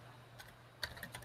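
Keys clack on a computer keyboard as a password is typed, a few faint scattered taps and then a short quick cluster over low background hum.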